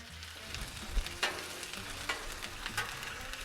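Chorizo and eggs frying on a Blackstone griddle for a Mexican breakfast give a steady, close sizzle, broken by a few sharp spatula scrapes and taps spaced about a second apart, with no voices.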